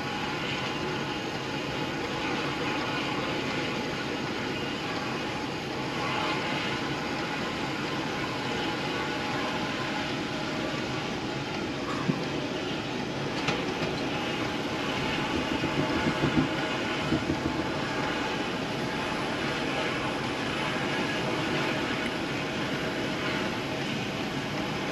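An APU spins up aboard a Bombardier Global Express business jet, heard from the cockpit as a steady broadband roar and hum that holds throughout, with faint clicks and no speech.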